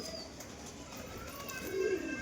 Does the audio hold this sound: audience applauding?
no